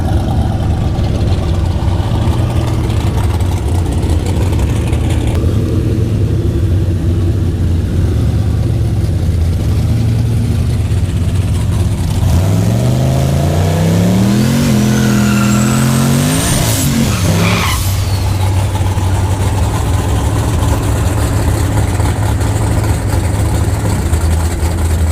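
An LS turbo-swapped Ford Ranger runs down a drag strip at night. A steady rumble builds into a loud, rising launch and wide-open acceleration that sweeps upward, fades briefly, then settles back to a background engine drone.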